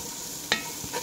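Onions sautéing in a pan for Kuwaiti-style machbooz, with a steady soft sizzle, one sharp scrape of the spatula midway and a fainter stir near the end, close by with no voices.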